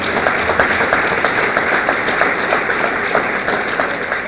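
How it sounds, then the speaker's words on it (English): An audience at a sports hall of fame induction ceremony applauds, a dense, steady wash of many hands clapping from a large crowd, sustained for several seconds with no speech over it. "can we get a round of applause for all the kids?"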